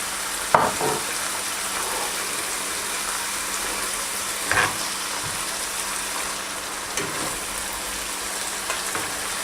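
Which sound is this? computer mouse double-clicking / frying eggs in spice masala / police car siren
frying eggs in spice masala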